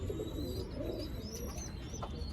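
Pigeons, including a pair of Saranpuri and Batera pigeons, cooing steadily in a loft alongside soft chirps and a constant background hum.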